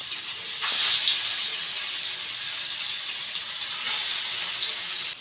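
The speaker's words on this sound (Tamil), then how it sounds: "சூடான பிறகு மீன் வந்து வறுத்து எடுத்துக்கலாம்" Fish pieces coated in masala fry in hot oil, giving a steady, loud hiss and crackle that swells near the start and again toward the end, with no voices.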